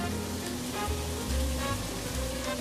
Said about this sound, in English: Sauteing this all together like that.